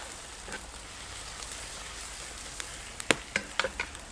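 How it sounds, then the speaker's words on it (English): Steak sizzles over a hot open flame in a steady crackling hiss, with a few louder pops and spits bursting out near the end. "I'm actually going to hit my steak on this hot flame now."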